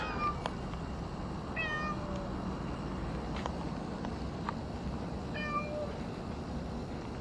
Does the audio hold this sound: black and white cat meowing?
yes